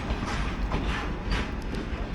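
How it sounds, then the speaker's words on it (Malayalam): A goods train rolling past a station on an Indian rail route, a loud, close rumble with rhythmic clanking and rattling of wagons, continuous through the clip, with no talking. "അപ്പോൾ അങ്ങനെ ഗുഡ്സ് പോയി"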